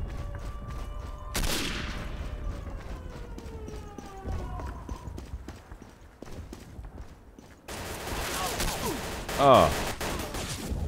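Gunfire in the video game Day of Defeat: Source, with rapid shots and a burst of heavy firing over a wailing siren-like tone, loud and close, while a voice briefly exclaims.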